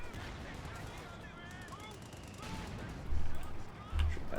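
Gunfire in the video game Company of Heroes 2, with a battle din underneath and two heavier low booms near the end, one at about three seconds and one at four. Talk runs over the sounds of battle.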